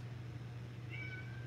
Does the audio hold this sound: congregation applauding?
no